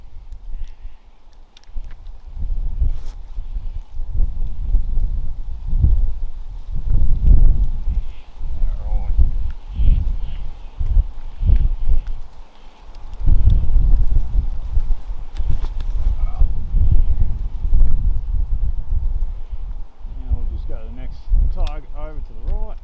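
Gusty wind blowing across the microphone outdoors at a shooting range, rumbling loudly in uneven waves for the whole stretch, with faint background sounds and no clear talk.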